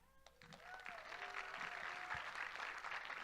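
Audience clapping at a Little Cherokee Ambassador pageant crowning, applause swelling from scattered claps into steady, fairly distant clapping with a few voices mixed in.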